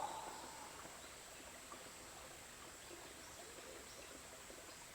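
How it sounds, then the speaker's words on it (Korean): A quiet, steady wash of flowing stream water runs evenly throughout, soft and continuous with no voices. "물소리 듣기"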